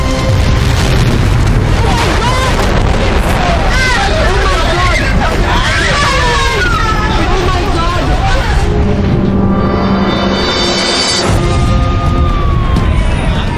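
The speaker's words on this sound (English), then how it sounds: "when the fire reaches the truck, a huge explosion rocks the center of town" Loud crowd commotion and chatter, then a gas truck explodes in a town centre with a deep, heavy boom, followed by a lingering low rumble.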